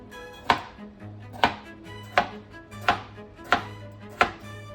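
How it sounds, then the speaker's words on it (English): Five evenly spaced knife chops cut through carrots and other vegetables on a board, each a sharp close thud, with no one speaking. "The rough chops on the carrots and all the veggies."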